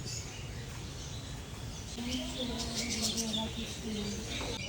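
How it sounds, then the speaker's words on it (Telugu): Birds at a zoo chirp and tweet in quick high bursts over steady crowd noise, with people talking nearby throughout. "పిట్టలు పిట్టలు."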